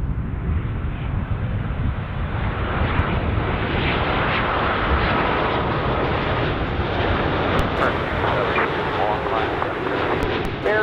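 A heavy Boeing 787 lands on runway 10 center at Chicago O'Hare, its engines a loud, steady, broadband roar that holds throughout with wind buffeting the microphone, and a radio voice comes and goes faintly beneath it.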